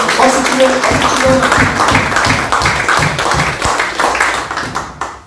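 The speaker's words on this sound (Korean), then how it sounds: "힘차게 박수치며" A church congregation claps vigorously and steadily in a large room, dense sustained applause with a voice over it, fading out at the end.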